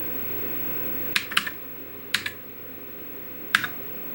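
Keys on a Commodore SX-64 computer keyboard are tapped sparsely: four or five crisp, close clicks in small clusters, separated by quiet gaps over a faint steady hum.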